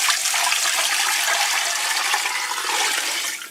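Water pours in a steady, rushing stream into a pressure cooker holding a ham bone, loud and close, tapering off at the very end.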